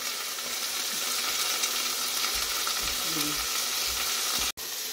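Pork shank sizzles steadily in hot oil under a lid, a continuous close crackling fry with a brief cut near the end.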